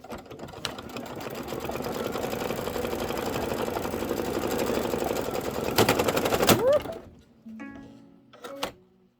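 A Kimberbell embroidery machine runs a tack-down stitch on a spring pennant project, a steady, fast mechanical rattle that hums on for several seconds, then stops abruptly with a few closing clicks.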